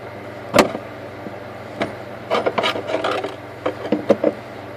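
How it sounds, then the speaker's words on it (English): A fuel pump lock ring on a 2004 Mazda RX8 is turned by hand, giving scattered raspy scraping and rubbing bursts with a sharp knock near the start, close and fairly loud over a steady low hum. "I might be able to start spinning it by hand now"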